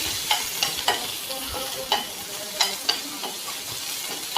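Chopped onion frying in oil in a pan for vaamu pappu, a soft continuous sizzle broken by sharp scraping taps of a spoon stirring at irregular intervals.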